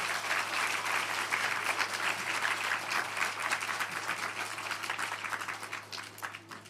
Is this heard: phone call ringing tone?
no